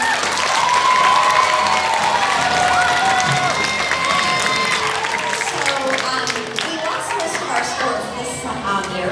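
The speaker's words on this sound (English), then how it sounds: "Give them a round of applause." Audience at a fifth grade farewell school assembly clapping and cheering, dense applause mixed with children's shouts and excited voices, loud and continuous throughout.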